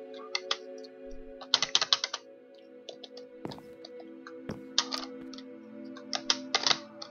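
Rapid typing on a computer keyboard at a gaming setup, with irregular bursts of close, crisp key clicks over a steady background hum.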